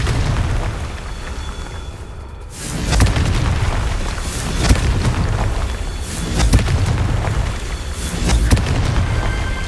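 In Hogwarts Legacy, a Confringo blasting spell sets off a series of heavy booming explosions at regular intervals over a low rumbling backdrop.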